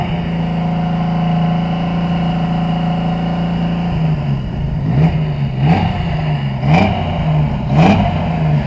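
A classic Yamaha XS750SE three-cylinder motorcycle with headers and a 3-into-1 exhaust idles loudly, then gets four or five quick throttle blips that rise and fall in a regular rhythm, close up.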